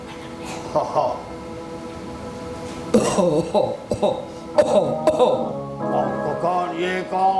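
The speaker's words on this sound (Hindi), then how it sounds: "ये कौन खांस रहा है?" A cough rises from the audience at a live theatre festival stage performance, brief and throaty amid loud stage dialogue and crowd noise.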